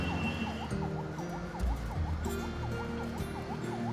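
An ambulance siren wails in a steady repeating rise-and-fall pattern over low traffic rumble and engine hum on a road in Bangladesh.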